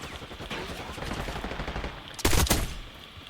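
Gunfire in the video game Call of Duty Black Ops 6 after the 1.06 update: a steady rattle of game gunshots under background noise, then a loud, harsh burst of several shots near the end.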